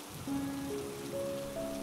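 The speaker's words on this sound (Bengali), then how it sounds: "বৃষ্টিটা একটু ধরে আসুক" Heavy rain falls at night around a car during a thunderstorm, a dense, even hiss that continues throughout with soft sustained musical tones layered over it.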